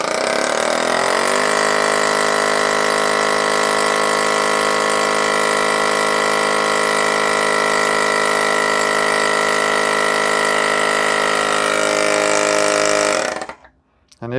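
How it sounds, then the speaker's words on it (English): An AUXITO A301 portable tire inflator air compressor drones steadily at close range with a buzzing, harmonic-rich motor tone for about thirteen seconds, then cuts off abruptly into near silence. "AUXITO compressor running sound test"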